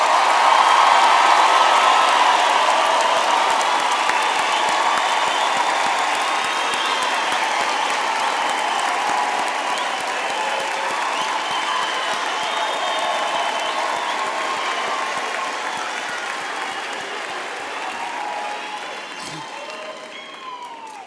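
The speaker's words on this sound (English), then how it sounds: "give our graduates a big hand for their hard work and" A large audience at a university graduation ceremony applauds its graduates, sustained loud clapping with some cheering and whoops that slowly fades toward the end.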